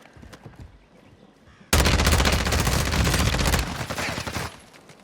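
SMG gunfire in Warzone 2, a loud rapid burst of automatic shots lasting about two seconds, then tapering, over quieter game ambience.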